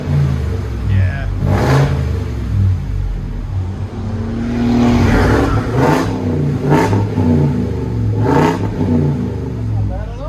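A Ford F-350 7.3L gas V8 pickup's deep exhaust revs repeatedly in sharp bursts over a low idle rumble, close by, with people talking in between.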